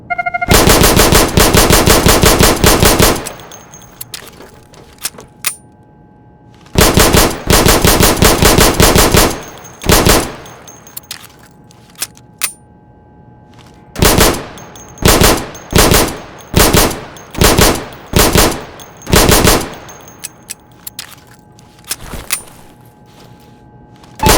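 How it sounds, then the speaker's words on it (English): Loud automatic gunfire rips at targets on a video game shooting range, first in long sustained bursts, then in a rapid series of short, evenly spaced bursts separated by silence. "Go over to the firing booth. Take down those targets as quickly as you can."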